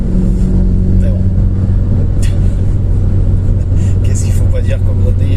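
A car drives at speed on a German autobahn at night, with a steady low engine and road rumble running continuously throughout, loud and close from inside the cabin.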